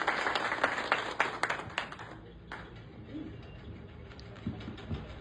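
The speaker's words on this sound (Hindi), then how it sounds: "कंजूसी ना करें, जोरदार तालियों से स्वागत करें नीरज का।" Audience applause welcoming a performer named Neeraj at a school birthday-anniversary event for B. P. Mandal: a burst of dense clapping for about two seconds that thins into scattered claps and faint room noise.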